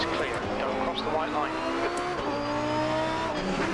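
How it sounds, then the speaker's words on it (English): A GT2 race car engine in the video game Assetto Corsa Competizione drones steadily with shifting pitch, accompanied by some tire noise and a voice speaking over it. "That engine sounds kind of familiar"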